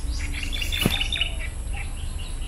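Small birds chirp outdoors in a very quiet, windless rural spot, a brief cluster of high, bright tweets near the middle over soft ambient hiss, with no one speaking.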